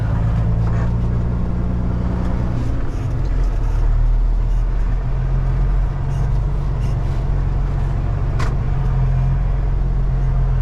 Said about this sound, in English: A race car of some sort.